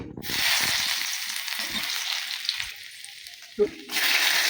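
Chopped ginger frying in mustard oil in a wok while making an egg devil: a loud, steady sizzle starts abruptly, runs continuously, and flares up again near the end after a brief stir.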